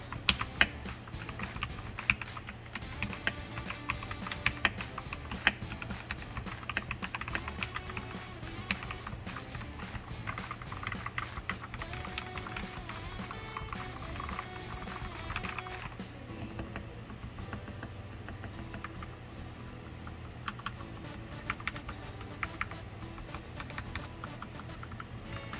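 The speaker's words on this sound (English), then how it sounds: "let's go through a quick keyboard sound test" Rapid, steady typing on a modded RK mechanical keyboard, with dense clacky keystrokes sounding close and clear and continuing alone for the whole stretch.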